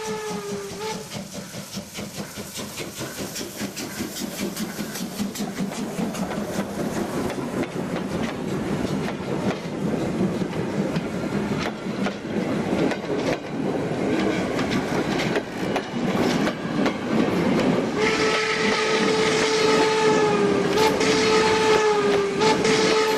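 A steam locomotive arrives in an old archival film, a steady rumbling, clattering run of carriages growing louder, with a long wavering steam whistle blowing near the end.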